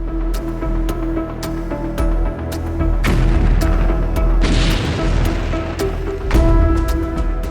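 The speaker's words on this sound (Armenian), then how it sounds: "Շուրջ բոլորը այրվում է եւ անդադար պայթում։" Loud, repeated booming blasts and crashes with dense rumbling during a Japanese bombing attack on US forces, explosions following one another over a continuous roar, no talking.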